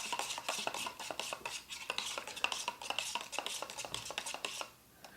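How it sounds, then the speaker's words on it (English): Grape-flavoured colonoscopy bowel-prep drink mix is stirred in a container, giving a fast, steady run of close clinking and scraping strokes that stops near the end. "Go ahead and mix it a little there."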